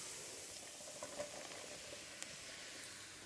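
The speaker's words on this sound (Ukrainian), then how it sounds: "Тепер, коли цибуля дійшла до такого стану, ми вкидаємо сюди грибочки." Sliced mushrooms added to onions frying in a pan give a steady close sizzle with faint crackles and a couple of sharp pops, without any talking.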